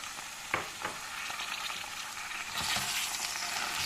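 Pickled cabbage sautéing in a pan for a Turkish turşu pancarı dish, a steady close sizzle broken by a few soft stirring scrapes and a louder burst of frying near the end, with no talking.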